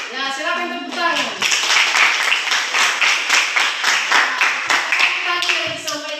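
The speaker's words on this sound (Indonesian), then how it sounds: "Ya, silakan tepuk tangan." Classroom applause breaks out after a student's answer, many hands clapping in a dense, steady patter that fills the room, with a teacher's voice speaking briefly at the start.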